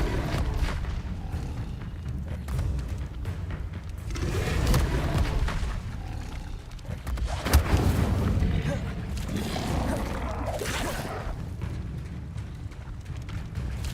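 Incendio fire spell cast in Hogwarts Legacy, a roaring burst of flame with booming impacts amid continuous game audio, while a person talks over it.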